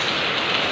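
Heavy typhoon rain pours down in Manila as a steady, loud, dense hiss of drops on surfaces, close and continuous with no voices.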